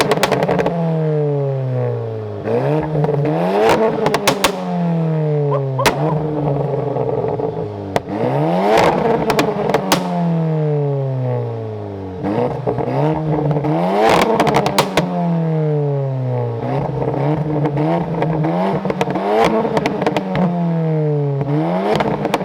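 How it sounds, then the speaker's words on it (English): A tuned 350bhp Golf GTI revs hard again and again, each rising rev falling back with loud exhaust crackles, pops and bangs as it spits flames, the pattern repeating steadily close by with no talking. "we think the engine is going to be warm enough for some nice big old flames"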